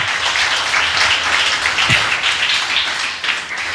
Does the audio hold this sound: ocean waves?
no